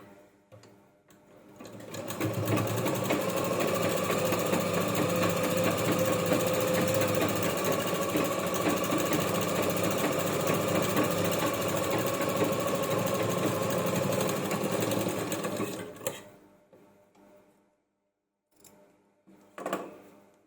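An electric sewing machine stitches a cloth bag made from a saree blouse piece, running in one long, loud, steady whir for about fourteen seconds before stopping, followed by a few brief clicks and handling noises.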